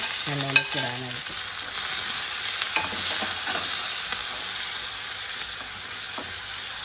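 Onions and other ingredients fry in oil over a low flame for a quick Kerala tomato curry, a steady close sizzle with a few spoon scrapes and clinks near the start, then an even hiss.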